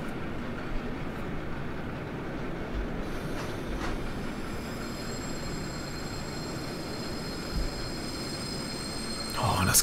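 A freight train rolls through a station on the Deutsche Reichsbahn in the Thuringian Forest in Train Simulator Classic, a steady rumbling rattle with a thin high wheel squeal rising late, close and fairly loud.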